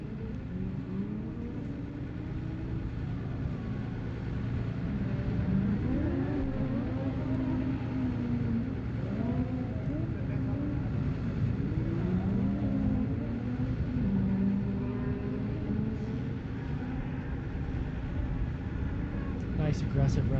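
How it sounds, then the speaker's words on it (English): Two Nissan 350Z drift cars with VQ engines battle at Apple Valley Speedway, engines revving and rising and falling in pitch over a steady rumble, heard at a distance beneath continuous commentary. "350Z on 350Z action going down. VQ versus VQ."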